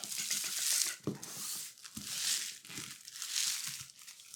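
Tissue paper crinkling up close as pieces are glued together for polymer clay bead making, in several loud rustling swells separated by brief quieter handling sounds.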